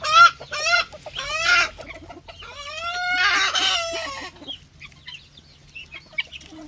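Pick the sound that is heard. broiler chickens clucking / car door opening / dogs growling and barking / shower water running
broiler chickens clucking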